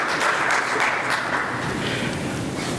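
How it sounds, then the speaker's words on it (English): A conference audience gives a round of applause for visiting professors, dense continuous clapping throughout, loud and close. "Please give them a big round of applause so we can just get everybody energized."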